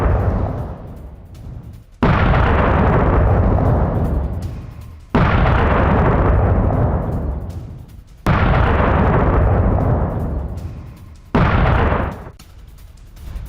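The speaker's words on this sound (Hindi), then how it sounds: "बहरीन में ईरान के ताबड़तोड़ हमले, पैट्रियट सिस्टम ने कई मिसाइलों को इंटरसेप्ट किया है।" Loud repeated blasts during Iranian missile attacks intercepted over Bahrain, four long roaring rumbles in a row, each hitting hard and slowly fading before the next.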